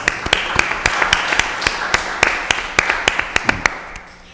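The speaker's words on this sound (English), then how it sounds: "Give you a round of applause for" At a city council meeting, a small group gives scattered applause, with sharp, distinct claps in an uneven rhythm that thin out toward the end, and a voice speaks faintly beneath.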